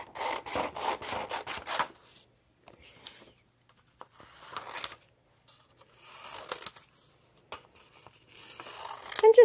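Scissors snip through paper during a children's cut-and-paste craft, with a quick run of close, dry cuts at the start followed by scattered softer snips and rustles in a quiet room.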